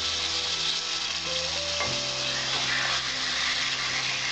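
Dahi chicken in a pan being stirred, a steady, loud sizzle of frying with soft scraping as the pieces are turned, continuous throughout with no talking.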